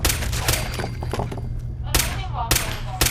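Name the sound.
gunfire from video game Fallout 4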